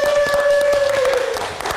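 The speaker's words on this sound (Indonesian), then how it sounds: "Boleh tepuk tangannya." Studio audience applause on an Indonesian live comedy talk show: a short burst of scattered clapping over a steady sustained tone, fairly loud and close throughout.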